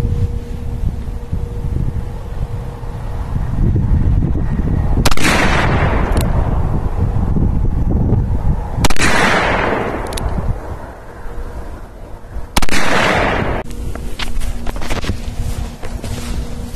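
A Taurus 627 Tracker revolver fires 158-grain hollow-point handloads outdoors, three loud, sharp shots spaced a few seconds apart, each with a brief echoing tail over steady wind noise.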